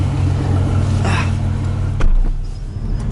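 A tuned Audi RS5 heard close by, its engine holding a low steady rumble before a short sharp rev bursts out and quickly settles back to a rougher idle.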